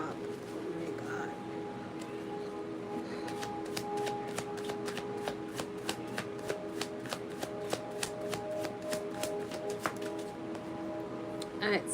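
Tarot cards are shuffled in a fast, steady riffle of crisp clicks that runs for several seconds, close to the mic, over a low background hum, with a voice speaking at times.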